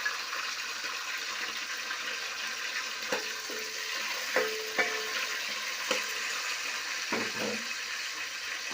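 Small shallots stirred and frying in hot oil with curry leaves and chillies for a Tamil fish curry, a steady sizzle broken by several scraping stirs and soft clinks of the spoon in the pan.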